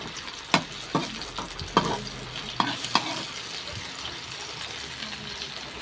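Food fries in cooking oil in a pan after a little more oil is added. A steady sizzle runs underneath several sharp utensil clacks and scrapes in the first few seconds, with no one talking.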